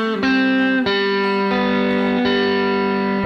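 Guitar playing part of a melody, a few sustained notes struck one after another with steady ringing tones, close and fairly loud with no talking.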